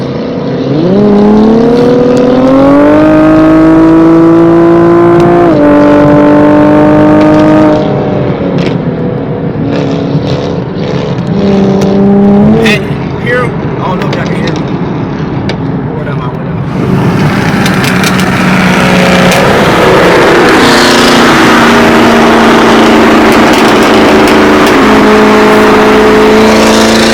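Cars at a car meet drive past and rev hard, with loud rising and falling engine notes, gear changes and repeated acceleration bursts close by.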